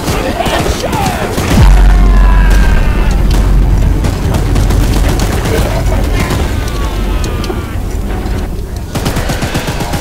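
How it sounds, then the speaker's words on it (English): A mounted gun fires in the video game Choo Choo Charles, a loud sustained burst of rapid gunfire with booming impacts starting after a brief lead-in, mixed with game effects and shouted voices. "Careful! Don't let the gun overheat!"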